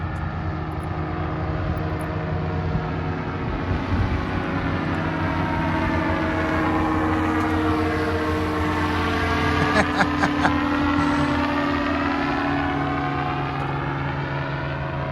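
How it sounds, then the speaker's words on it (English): A small recreational aircraft flies nearby at a lakeside camping spot, producing a steady droning engine hum whose pitch slowly rises and falls as it passes, with no talking over it. "Somebody is flying their little aircraft right there."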